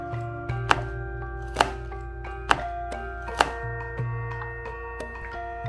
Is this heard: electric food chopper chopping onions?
yes